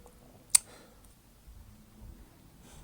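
A single sharp computer mouse click stands out clearly against a quiet background, followed by faint low rustling.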